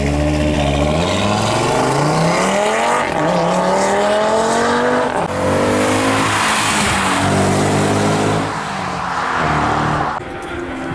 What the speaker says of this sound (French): Ah d'accord, un brûleur de gomme hein